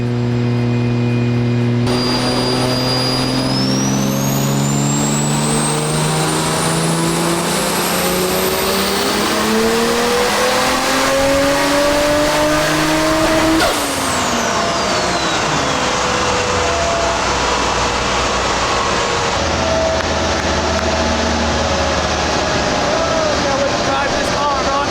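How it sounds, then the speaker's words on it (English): A modified Toyota Supra tuned to around 500 horsepower warms up and revs hard on a dyno, its engine note climbing in pitch for several seconds before dropping back to a steady loud idle with a constant hum underneath. "We're gonna go ahead, warm up the car again, do some final horsepower numbers"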